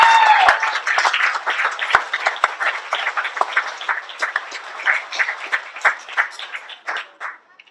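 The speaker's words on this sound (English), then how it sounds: "round of applause for this gentleman" An audience at a recovery center opening breaks into applause, a dense, lively burst of clapping that slowly thins and fades over several seconds.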